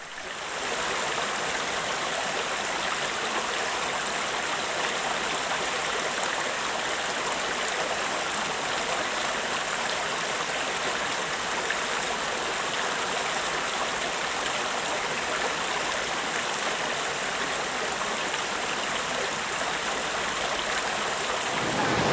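A river runs past a riverside communal meal in a South Sumatra village, producing a loud, unbroken rushing wash of water with no voices.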